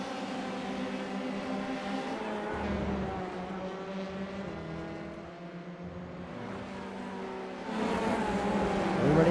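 F3 race cars roaring at Donington Park in a racing game, several engines droning side by side at high revs, pitch shifting as they pass, moderately loud with a surge near the end.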